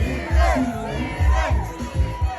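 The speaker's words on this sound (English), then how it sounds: "big round of applause to your maid of honor, Laura," A wedding crowd claps and cheers loudly, with whoops and shouts rising over the applause in a short, lively burst.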